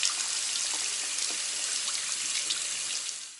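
Hot tap water runs steadily while a comb's tines assembly is washed under it, a continuous close hiss and splash of the stream with no talk.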